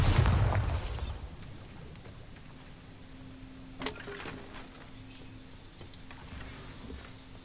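A Bombarda blasting spell explodes in Hogwarts Legacy: one loud, low, rumbling burst at the start that fades into a quieter background, with a brief sharp knock a few seconds later.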